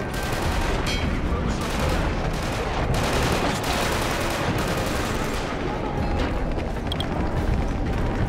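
Rapid video game gunfire crackles in dense, continuous bursts of automatic fire mixed with louder blasts, loud and close for several seconds, with voices faintly underneath.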